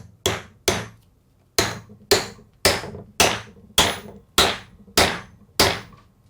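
Ten sharp hammer blows strike 20D four-inch nails with an ordinary hammer, landing in an uneven rhythm of pairs and steady strokes, each crack close and loud with a quick ringing decay and no talk.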